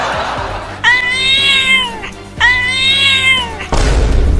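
An angry cartoon cat lets out two long, drawn-out meows, loud and close, with a brief pause between them and a short burst of noise at the end.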